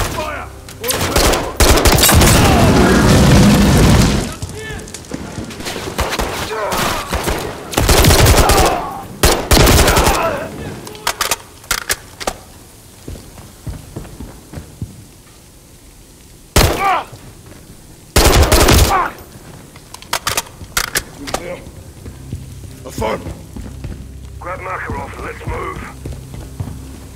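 Bursts of automatic gunfire and single shots in the Call of Duty Modern Warfare 3 video game, loud and close, coming in several volleys with pauses between them, with shouted voices mixed in.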